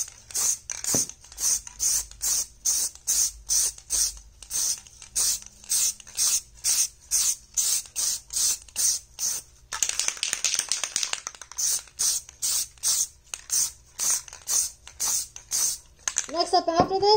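Spray primer hisses onto plastic armor in many short, evenly spaced bursts, with one longer continuous spray in the middle. It is loud and close, and a brief tonal squeak comes at the end.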